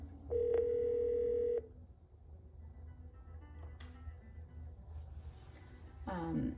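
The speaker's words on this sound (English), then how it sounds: "Dial your second party and then tap join conference." A Grandstream GXV3470 IP phone gives a steady held tone lasting about a second, then quiet room hum and faint clicks, with a short burst of warbling electronic tones at the end.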